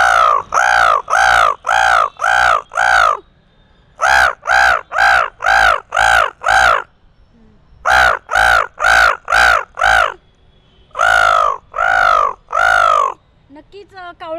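A human voice imitates crows cawing to call them in, loud and close, giving harsh caws in quick bursts of four to six separated by short pauses.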